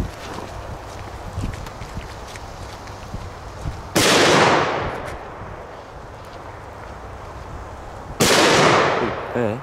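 Two firework bangs, lit with plasma lighters, go off about four seconds apart. Each is a loud, sharp blast with a decaying tail over quieter outdoor background noise.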